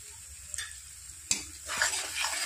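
Spices and chili powder being stirred and fried in a pan for a Bengali fish curry: a steady close sizzle with sharp scrapes of the spoon against the pan, alone with no talk.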